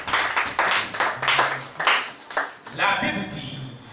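A church congregation claps in rhythm during a French-language worship service, a steady beat of loud hand claps mixed with voices over a low musical drone.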